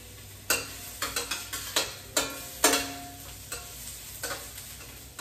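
Fresh ginger, garlic and onions sizzling in a pan, a steady close hiss punctuated by a series of sharp crackling bursts and spatters as the pieces settle in hot oil.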